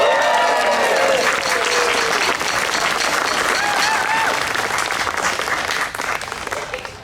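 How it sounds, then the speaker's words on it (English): An audience at a pub event applauds the organizer, Sam, with loud, dense clapping that holds steady for several seconds and begins to thin out near the end, with some crowd noise mixed in. "he deserves that huge applause"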